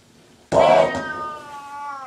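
A cat lets out one loud, drawn-out meow that starts abruptly and then tapers into a thinner, wavering tail, heard close and alone with no talking over it.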